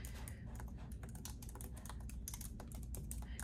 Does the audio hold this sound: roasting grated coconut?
no